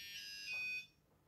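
A Tracker PI-2 pulse metal detector control unit gives a single sustained electronic beep of just under a second on power-up, clear and close, then falls quiet.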